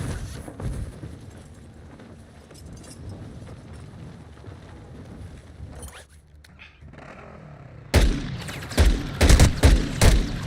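Video game battle gunfire in a multiplayer shooter, a steady rattle of shots under a busy mix, then a brief lull before a louder burst of sharp, close shots near the end.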